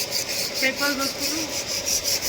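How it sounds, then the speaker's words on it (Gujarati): Sandpaper rubs over a heavy machine's surface before painting in a workshop, giving repeated close scratchy strokes in a steady back-and-forth rhythm. "ઘસી રહ્યા, પેપર મારી રહ્યા."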